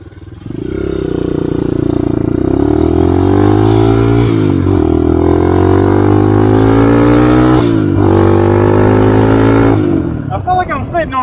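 A 2021 Tao TBR7 motorcycle engine revving loudly and close, with rising and falling pitch as the throttle is worked in several sustained pulls before settling to idle.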